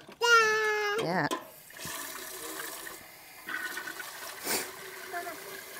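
Water splashes and trickles as it is poured onto a potted plant, close and fairly soft, while a child and an adult talk over it.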